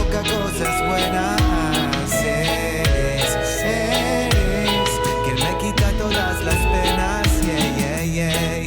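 A track plays loud and continuous, with a steady rhythmic beat, a pulsing bass line and layered melodic tones, and nobody talking over it.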